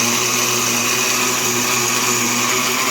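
A blender beats and stirs a wet Egyptian ormus mixture, its motor giving a steady, loud whir with a high-pitched whine that holds for the whole stretch with no talking.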